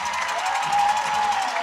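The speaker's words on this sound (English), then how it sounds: "you can just hear the intensity in the crowd as they love their Big Reds" A football crowd at a Parkersburg vs Cabell Midland high school game cheers for the Big Reds, making a sustained, loud roar of mixed voices and whoops that swells slightly in the middle.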